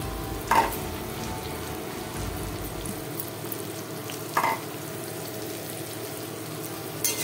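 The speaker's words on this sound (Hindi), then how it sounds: "अब इसमें प्याज डाल देते हैं।" Onions frying in a pan at home while a dinner is being cooked, a steady low sizzle with a couple of sharp stirring knocks near the start and middle, close and moderately quiet with no talk.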